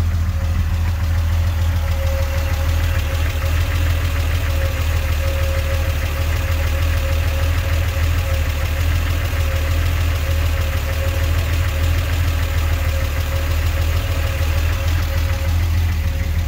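A Triumph TR6 with triple SU HS6 carburetors, freshly tuned, idles steadily and close by, its low, even engine rumble holding a constant drone with no voices throughout.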